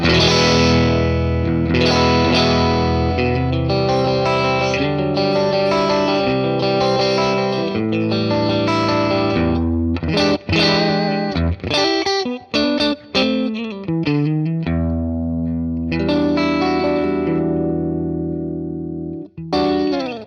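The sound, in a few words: electric guitar through amp modeler effects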